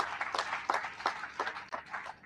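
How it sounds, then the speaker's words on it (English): Audience clapping for the chairman at an ABLE2VOTE North Central gathering: a small crowd's scattered, uneven claps arrive in loose bursts, moderately close, with no other sound over them. "Let's clap for the chairman, please."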